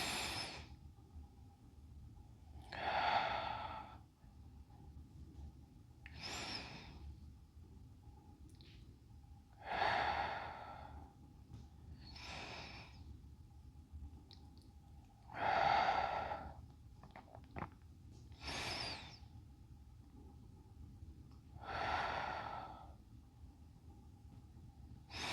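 Slow, steady breaths during a quiet somatic yoga session, each soft inhale and exhale rising and fading every few seconds, close and alone with no talking.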